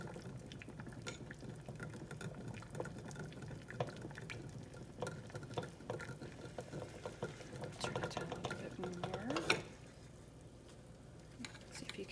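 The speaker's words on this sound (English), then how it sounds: "Let's give this another stir." A spoon stirs melting beeswax in a pot for homemade lip balm, giving soft, continuous scraping and sloshing close by, with faint clinks against the pot before it settles near the end.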